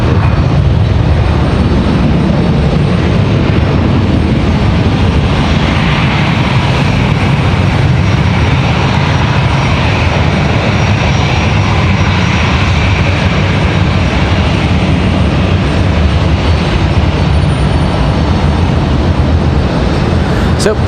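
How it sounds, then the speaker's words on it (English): An American Airlines CRJ regional jet departs Raleigh-Durham, its loud, steady engine roar filling the air throughout with broadband rumble, a faint voice occasionally mixed in. "So we have another CRJ departure for American back-to-back CRJ departures."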